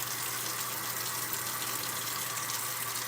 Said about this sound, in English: I'm rinsing it out.